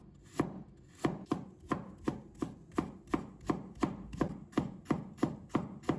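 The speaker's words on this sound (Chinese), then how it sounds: "接下来我们再准备1块嫩姜，把它切成丝。" Knife chopping young ginger into thin strips on a cutting board: a steady series of about fifteen crisp, evenly spaced chops, close and clear with no talking.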